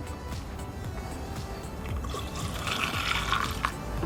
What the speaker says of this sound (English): We're gonna add coolant now.